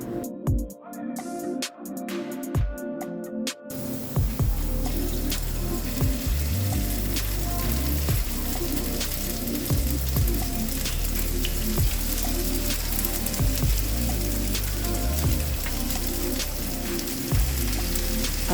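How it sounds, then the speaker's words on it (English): Loud, steady sizzling of chicken breast frying in hot oil, crackling continuously up close after a brief quieter start. "I'm gonna allow my oil to hot and then I'll start frying my chicken"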